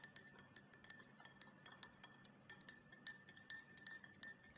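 A metal spoon stirs salt into oil and vinegar inside a glass jar, giving a steady run of light, bright clinks and ticks against the glass, evenly paced and close by, with no voices.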